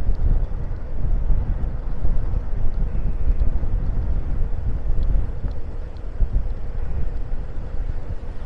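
Strong wind in Maspalomas, Gran Canaria, during a sandstorm buffets the microphone with a constant, rumbling roar for the whole stretch, heavy and close, with no voices.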